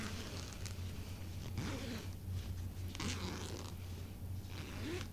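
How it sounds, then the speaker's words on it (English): A clothing zipper is pulled several times in short, rasping strokes, close by over a steady low hum. "that's a nice zipper sound."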